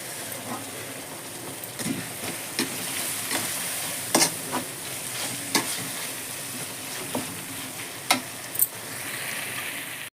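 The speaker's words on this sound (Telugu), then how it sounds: "మెంతి కూర కూడా మంచిగా మెత్తగా అయిపోయింది ఫ్రై అయిపోయింది" Fenugreek leaves and beans frying in a pan with a soft, steady sizzle, broken by scattered clinks and scrapes of a spatula stirring. Fairly quiet, with no voices.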